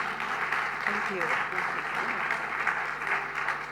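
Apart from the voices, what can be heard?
applause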